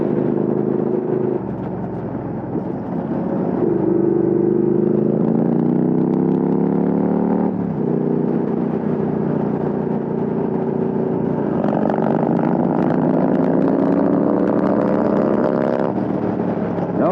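A 129ci Harley-Davidson and a Triumph Speed Twin accelerate together under hard throttle, their engine notes climbing steadily through the gears. The exhaust roar stays loud and close the whole way, with short dips at each shift before the pitch rises again.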